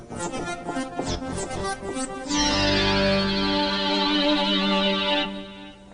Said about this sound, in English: switch 2 increases the amount of echo in the chorus delay effect